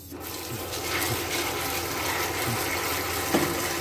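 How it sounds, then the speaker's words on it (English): Maple pea seeds rinsed under running water like washing rice, a continuous loud rushing splash that holds steady throughout, close by, with no speech. "just rinse them lah, like how you wash your rice."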